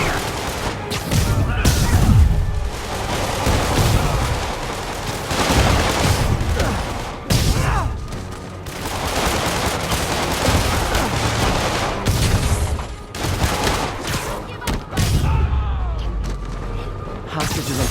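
Loud bursts of gunfire crackle through a Marvel's Spider-Man video game fight, mixed with booms, impacts and mechanical clatter, while voices shout over the shooting.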